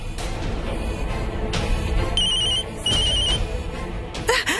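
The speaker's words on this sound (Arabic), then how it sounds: "تليفوني." A mobile phone rings with a repeating electronic ringtone in bursts over a busy indoor background, fairly close and clear.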